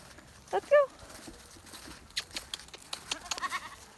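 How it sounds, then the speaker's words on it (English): A goat gives a short, wavering bleat early on, followed by rustling, scattered hoof and movement sounds outdoors. "Come on, goats. Let's go."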